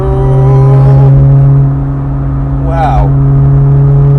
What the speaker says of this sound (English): Revs for days, it keeps revving